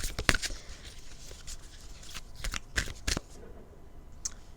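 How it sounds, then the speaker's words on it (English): A deck of cards is shuffled with quick, crisp riffling bursts and soft paper slaps, close and fairly quiet, with no voices. "You saw me shuffling it."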